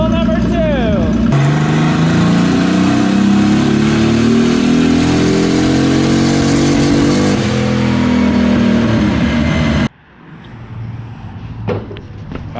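A turbocharged Nissan 280ZX engine revs hard at wide open throttle, its loud, rising drone climbing steadily for about nine seconds before cutting off abruptly. Quieter rumble and faint sounds follow.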